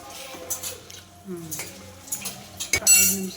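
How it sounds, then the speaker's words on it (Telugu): Eggs for egg fried rice are lightly stirred in a pan, giving soft scraping and a few metal clinks of the spoon against the pan, with one sharper clink near the end and some quiet voice in the background. "ఇలా లైట్గా కలుపుకోండి."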